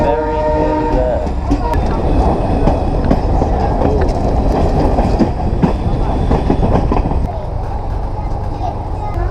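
A train in India rumbles steadily along the rails toward Jaipur with a dense, continuous roar and faint clacking, while voices talk over the noise.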